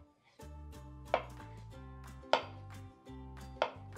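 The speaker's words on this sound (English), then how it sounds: "just use your knife and just cut it in slices." Knife cutting a banana sushi roll into slices on a board, a few soft cuts ending in sharp taps, quiet and close with a low hum underneath.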